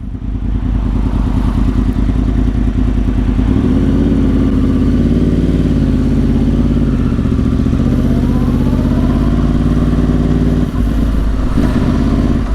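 A 2010 Yamaha R1 1000cc cross-plane motorcycle engine with Yoshimura exhaust rumbles loud and close, holding a steady throbbing idle before rising through smooth revs, with no talk over it.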